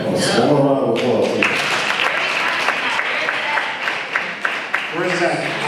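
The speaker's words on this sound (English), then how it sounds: "One round of applause" An audience applauds for several seconds in a dense, close burst of clapping, and talking voices are heard at the start and end.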